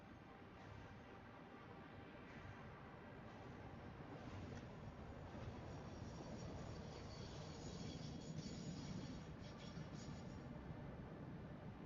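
Steady low rumbling rail noise as a train approaches in the factory-building game Satisfactory, a continuous broadband roll that swells slightly toward the end with no talk over it.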